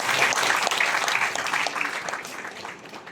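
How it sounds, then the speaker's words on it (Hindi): An audience at a Vedic science lecture claps, a lively, close burst of applause that gradually fades over about three seconds. "तालियों से अभिवादित करता हूँ"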